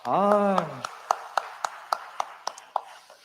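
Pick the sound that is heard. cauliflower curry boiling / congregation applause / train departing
congregation applause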